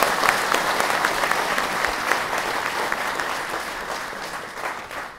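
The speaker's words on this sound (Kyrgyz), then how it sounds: "Кол чабуулар болсун." A crowd claps steadily and fairly loudly throughout, a dense, even patter of applause with no talk over it.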